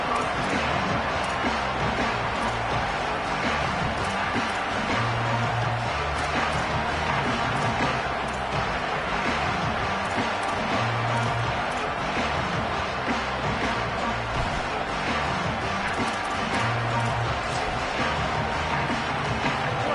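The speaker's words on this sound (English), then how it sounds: "This crowd ready to make its presence known" Football stadium crowd at a home game against Utah, a dense, steady roar of many voices filling the space throughout, with a loud announcer talking over it.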